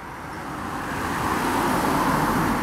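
A car approaches and passes along a park route, a broad steady road rumble that swells gradually and stays loud through the end, with no talking.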